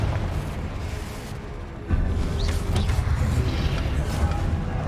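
The Confringo explosive spell in Hogwarts Legacy erupts in a sudden, loud burst that settles into a sustained rumbling roar.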